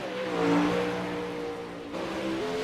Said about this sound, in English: William Evans, I try to get over the car sound